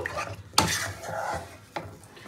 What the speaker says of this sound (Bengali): এবার আমি পরিমাণ মতো দিয়ে দেবো একটু হলুদ গুঁড়ো, আর দিয়ে দেবো পরিমাণ মতন আর একটু নুন। খুব ভালো করে মিশিয়ে নেব।